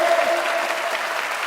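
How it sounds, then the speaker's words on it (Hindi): A seminar audience of students keeps clapping in steady applause, a dense continuous patter at moderate loudness that stays even across the stretch, with a faint murmur of talk beneath. "तालियां बजाते रहिए"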